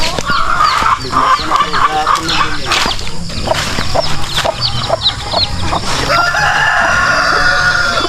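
Chickens cluck and squawk continuously on a farm, close by and fairly loud, with a rooster-like call mixed in among the flock's chatter.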